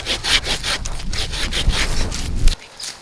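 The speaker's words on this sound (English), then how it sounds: "we'll just start with sawing." A hand saw rasps through a fig tree branch in quick, regular back-and-forth strokes, close and loud, stopping abruptly near the end.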